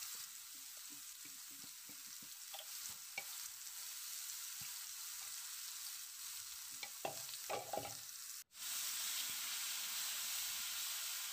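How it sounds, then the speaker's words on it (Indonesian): Ground chili spice paste being sautéed in a pan until fragrant, as for chicken-feet rica-rica, giving a steady close sizzle and hiss with occasional stirring clinks and a brief break near the end. "Kita tumis sampai wangi agar rasanya lebih sedap."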